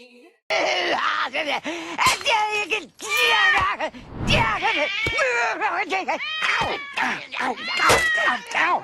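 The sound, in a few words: cat meowing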